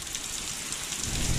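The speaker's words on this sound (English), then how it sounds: "now it's raining heavily again" Heavy rain pours steadily, a dense hiss that swells slightly toward the end, with no voices.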